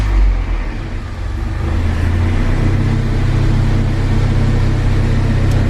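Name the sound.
old Toyota Tacoma truck engine starting and idling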